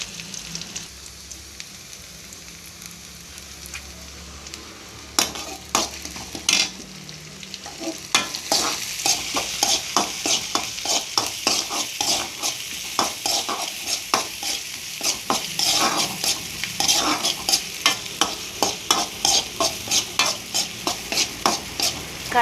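Mustard seeds, onion and curry leaves are stir-fried in a pan. After a quiet start the oil sizzles loudly, with rhythmic scraping strokes of stirring that continue to the end.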